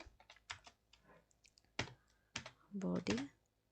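Computer keyboard typing while writing HTML code, a few scattered close key clicks and taps in short irregular bursts, quiet, mixed with a voice speaking at the end.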